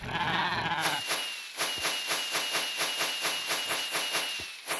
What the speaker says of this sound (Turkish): Oo, yukarıda koyun var.